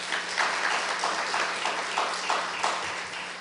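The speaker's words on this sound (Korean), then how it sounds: "다시 한번 박수해 주시기 바랍니다" Congregation applauding during a Sunday worship service at a Baptist church, a moderately loud spread of clapping that swells in soft, regular pulses and carries on without any speech.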